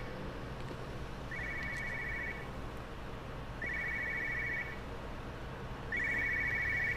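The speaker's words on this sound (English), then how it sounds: "That's a jazzy phone." Phone ringing in the video game Everybody's Gone to the Rapture: three bursts of a bright electronic trill separated by pauses, faint and distant over a soft ambient background.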